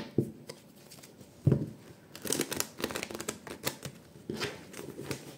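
Tarot cards are shuffled close up, a series of soft papery riffles and slaps in uneven bursts, with no talking.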